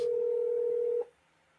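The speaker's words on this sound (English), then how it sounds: "Can you guys hear the phone ringing?" A single steady telephone tone on a live call sounds clearly for about a second and then stops abruptly, leaving a faint quiet background.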